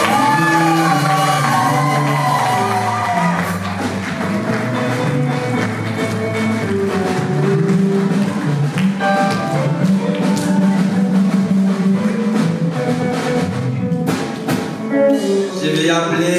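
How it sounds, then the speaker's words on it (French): A church congregation at a Christian centre's consecration service cheers, shouts and whoops in acclaim: a loud, sustained crowd roar with voices rising over a dense, full backdrop for the whole stretch. "On acclame pour la gloire de Dieu."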